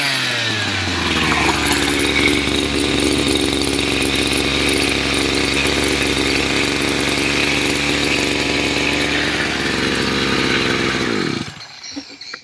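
A Maru petrol grass trimmer engine runs steadily at high revs during a test, a loud, continuous buzzing drone that holds for about eleven seconds before cutting off abruptly.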